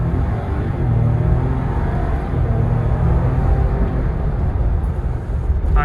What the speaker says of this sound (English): Load up the turbo a little bit.